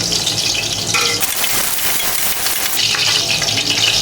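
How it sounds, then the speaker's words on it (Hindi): Large chunks of potato frying in hot oil over a high flame, a loud, dense crackling sizzle that fills the whole stretch, with brief stirring and clinks mixed in. "आलू को हम हाई फ्लेम के ऊपर अच्छी तरीके से इसको फ्राई कर लेंगे।"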